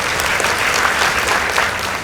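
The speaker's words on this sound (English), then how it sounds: "Let's give them a round of applause." Steady applause from a crowd at a school debate competition, dense and continuous clapping throughout, fairly loud with no talking.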